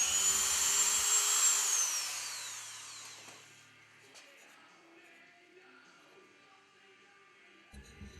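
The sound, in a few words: abrasive bits removing and smoothing cast metal emblem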